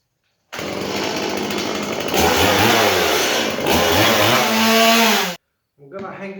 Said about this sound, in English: I think I'm gonna chop this off here because it's sticking out too far